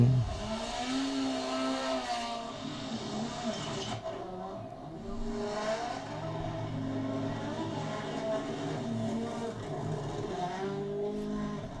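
Race cars racing, with engines revving and shifting in pitch, rising and falling tones as they pass and accelerate, moderately loud and continuous over about twelve seconds.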